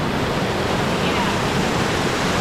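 A small waterfall on a hike in Sequoia country rushes with steady broadband white-noise spray, close and continuous with no pauses.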